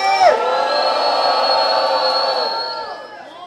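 A crowd at a rap battle at a street cultural circle in Rocinha cheers and shouts in a sustained, loud roar of whoops and voices that holds steady, then tapers slightly.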